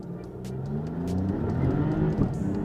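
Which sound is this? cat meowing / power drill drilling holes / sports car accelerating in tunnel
sports car accelerating in tunnel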